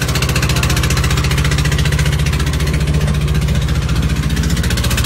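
Engine of a Dhaka-bound passenger launch boat on the Karnaphuli River, a loud, steady low throb with an even mechanical pulse running unbroken and close by.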